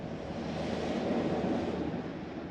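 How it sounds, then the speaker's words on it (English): Transmission oil pours from a bucket into the transmission of a Minneapolis Moline Mobilift, a steady low rushing gush that holds constant and fairly loud for the whole stretch. "Now I'm finally adding oil to the transmission."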